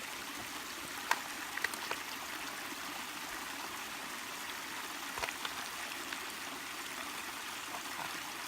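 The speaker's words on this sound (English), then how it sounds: "squeeze the water right into it" Water squeezed from a filter bag into a bottle on the Appalachian Trail: a soft continuous trickling stream with a few small clicks and splashes, quiet and close, with no voices.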